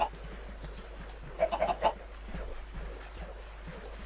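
Video game chickens give a brief cluster of clucks in the middle, fairly close and distinct over low background noise, with a faint burst at the very end.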